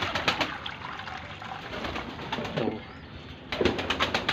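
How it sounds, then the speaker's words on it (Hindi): Breeding pigeons coo softly in their loft, with repeated low throaty calls, some wing flutters and light tapping close by. "और अभी ये कबूतर भाई ब्रीडिंग वाले हैं, ये अंडे बच्चे वाले कबूतर है"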